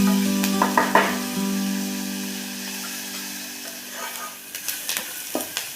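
Chopped onion stirred into roasted tomato in a frying pan for a green pea curry, a steady sizzle running throughout with scraping clinks of the spoon bunched near the start and again toward the end.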